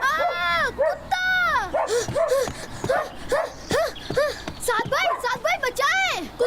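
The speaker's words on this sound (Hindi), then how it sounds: "साद भाई कुत्ता मेरे पीछे लगा हुआ है" A cartoon dog barks repeatedly in quick, bouncy yelps throughout, loud and close, mixed with excited character voices in an animated chase scene.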